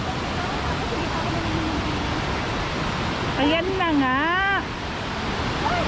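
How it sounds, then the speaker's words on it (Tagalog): Strong surf roars as broadband noise close by on a waterfall hike at Little Hawaii, steady and loud, while people talk and exclaim over it. "Pero malakas yung ano, yung alon."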